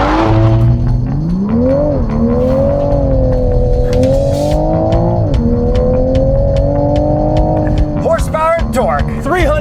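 Toyota GR Supra with a 3.0-liter turbocharged inline-six accelerating hard, engine note climbing through the gears with shifts between pulls, loud and close throughout, ending with a brief tire squeal.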